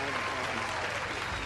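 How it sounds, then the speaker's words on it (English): A crowd of friends applauds in a dense, steady wash of clapping for a young man leaving to join the Marines, with talk mixed in underneath. "Give Joey a big round of applause."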